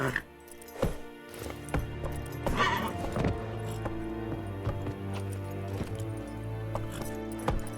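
Roach, the horse in The Witcher 3, gallops with steady clip-clop hoofbeats and a whinny, up close over game music, while someone speaks briefly.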